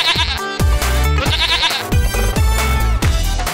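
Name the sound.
goat bleating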